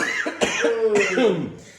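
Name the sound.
cough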